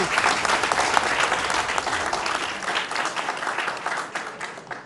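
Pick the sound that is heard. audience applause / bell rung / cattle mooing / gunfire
audience applause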